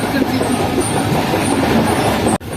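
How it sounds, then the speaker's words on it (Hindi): Sir Syed Express train rolls out of Faisalabad with a loud, steady rumble and rhythmic clatter of wheels on the rails, heard from close by inside the carriage. "फैसलाबाद से निकलती हुई ट्रेन हमारी।"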